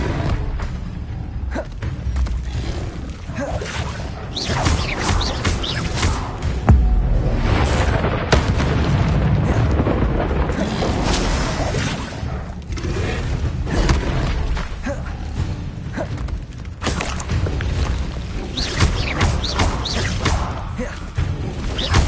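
Spell blasts and explosions from the Confringo blasting curse during a Harry Potter game duel, a continuous loud barrage of booms, crashes and whooshes with no gaps, heard close.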